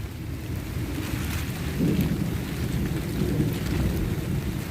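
Heavy summer rain pours steadily on a jujube orchard, with low rumbling thunder rolling underneath throughout.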